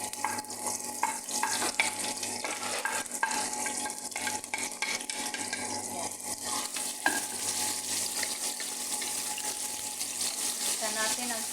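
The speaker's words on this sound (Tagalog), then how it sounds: "Igisa natin ang sibuyas hanggang mag-golden brown at lalabas yung ating aroma." Onions sauté in a pan to golden brown, giving a continuous soft sizzle with repeated light scraping taps of a spoon stirring, steady and moderately close throughout.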